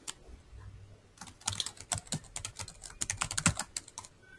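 Rapid, irregular keystrokes clatter on a computer keyboard as Java code is entered, a steady close stream of clicks with occasional heavier key hits and no voice.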